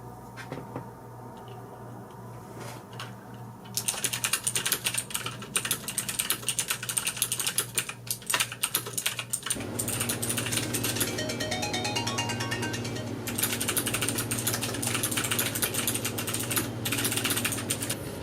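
Steady computer-keyboard typing for a writing session, rapid irregular key clicks running throughout, sparser at first and then denser and louder after a few seconds, with no talking.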